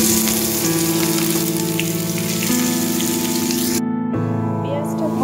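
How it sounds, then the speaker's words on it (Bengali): Chopped onion sizzles steadily in hot oil for mochar kopta curry, a loud continuous frying hiss that cuts out briefly near the end before resuming. "আমি এবার পেঁয়াজ কুচিটা দিয়ে দিলাম"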